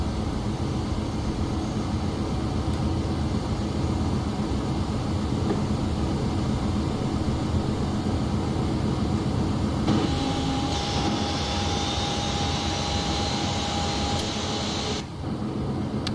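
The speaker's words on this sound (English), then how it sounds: "Right, engine 2 is started." Boeing 737 jet engine spooling up in a PMDG flight simulator on Prepar3D, a steady broadband roar with a rising whine tone entering partway through and holding, then cutting off abruptly near the end.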